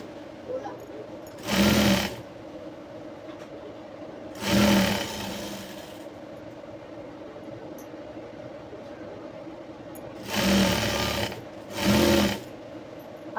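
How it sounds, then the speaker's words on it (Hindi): Sewing machine running in four short bursts as it stitches the open side seams of a jumpsuit, each burst about a second long against a steady low room hum. "इसको हम सिलाई अटैच कर देंगे यहाँ से"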